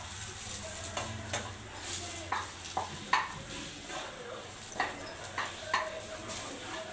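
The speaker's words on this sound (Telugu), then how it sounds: "ఇప్పుడు చింతపండు కూడా వేసి కొంచెంసేపు వేయించుకోవాలండి" Tamarind fries in a pan with roasted ingredients for a chutney and gets stirred. Soft sizzle runs throughout, broken by a steady series of light spoon knocks and scrapes against the pan.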